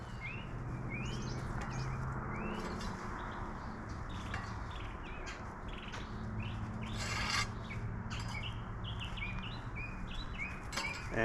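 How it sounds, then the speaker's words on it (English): Birds chirp and call repeatedly in the background over a steady outdoor hum and rustling in a garden, with no talking. "The birds are singing, they're happy, enjoying this cool weather."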